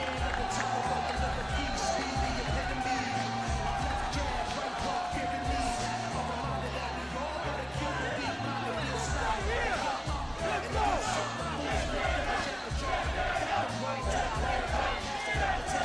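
A large arena crowd at a live professional wrestling event roars and chants in a dense, continuous wall of noise. Rhythmic clapping and shouts rise within it, with a commentator's voice partly heard over the crowd.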